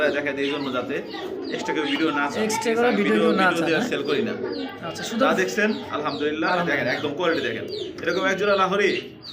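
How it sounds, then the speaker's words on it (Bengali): Lahori pigeons coo softly beneath people talking close by, the low burbling calls blending with the voices throughout. "আরো এক পেয়ার লাহোরি কবুতর এটা হচ্ছে অরিজিনালি টয় লাহোরি কবুতর"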